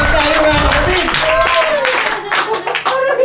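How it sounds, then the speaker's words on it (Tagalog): A crowd claps together in a burst of applause, fairly loud at first, then thins out with scattered claps as voices carry on over it. "Palakpak naman tayo, mga kapatid."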